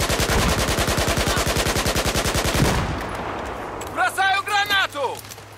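Sustained rapid automatic gunfire in the Battlefield 4 video game, loud and rhythmic, breaking off abruptly, followed by a short burst of someone talking.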